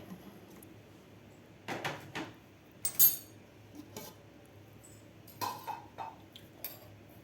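A mixer grinder jar is picked up and set down, giving a scattering of light clinks and knocks of hard kitchenware, close and fairly soft, with no talk.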